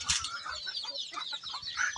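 Chickens inside a farm shed cluck and chatter softly in overlapping, irregular calls, fairly faint, with no voices.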